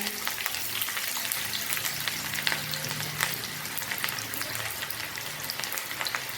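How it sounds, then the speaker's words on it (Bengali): Onions fry in a pan for a chicken bhuna, giving a loud, steady, close sizzle and crackle throughout with no pause. "পেঁয়াজগুলো একটু লাল করে ভেজে নেবো।"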